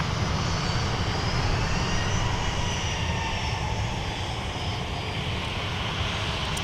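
A Delta airliner lands on runway 12 right at Minneapolis–Saint Paul airport, its engines roaring in a loud, steady rumble that fades slightly toward the end.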